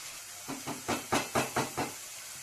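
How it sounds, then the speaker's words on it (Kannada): Ground coconut masala cooking in a pan for ivy gourd curry, giving off about seven evenly spaced, hissing spurts that swell and fade in a steady rhythm, close and fairly quiet, with no voices. "ಮಸಾಲ ಒಂದು 2 ನಿಮಿಷ ಫ್ರೈ ಆಗಿದೆ."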